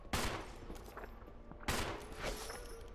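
Gunfire from the Resident Evil Remake video game: two loud, sharp broadband blasts about a second and a half apart, each trailing into a reverberant rumble, with a faint in-game background between them.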